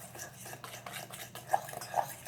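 A fork scrapes and clinks against a bowl while cupcake batter of flour, sugar, cocoa, spices, milk, butter and egg is mixed, with soft repeated taps and two sharper clinks near the end, close and fairly quiet.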